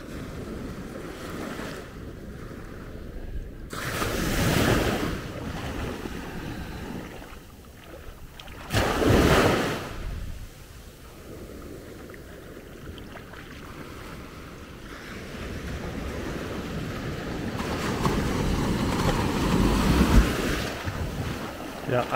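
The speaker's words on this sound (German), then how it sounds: "Ja, eine Welle dümpelt so hier ran." Sea waves washing onto the beach at Maspalomas, Gran Canaria, rising in a few louder surges against constant wind rumble on the microphone, with no talking.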